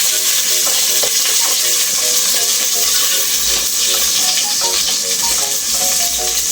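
Food frying in a pan until golden brown, for Ilonggo-style nilagang baboy, gives a loud, close, hissing sizzle that holds steady throughout, with faint scrapes of stirring and no voices.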